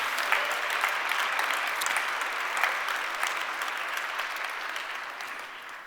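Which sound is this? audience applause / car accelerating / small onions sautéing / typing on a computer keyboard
audience applause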